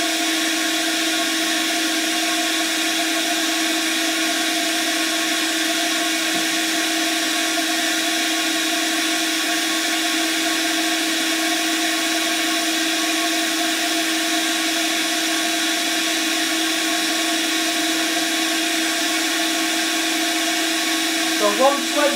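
Power sander working on a teak pot with a dust extractor running, a loud, steady high-pitched whine holding constant throughout, close and uninterrupted, with a brief scrape near the end.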